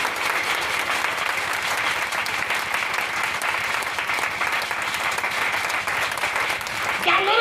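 A church congregation at a Friday sermon applauds its president, a dense, steady wall of clapping and crowd noise that holds for the whole stretch and swells slightly at the end.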